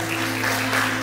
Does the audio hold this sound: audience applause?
yes